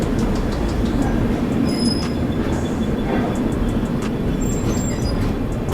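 Tamil Nadu Express passenger train rolling along, a steady close rumble of wheels and carriage noise with faint squeals and clatter, loud and continuous throughout with no talking.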